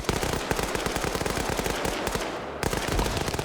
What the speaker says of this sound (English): now you got that ZU firing from that other position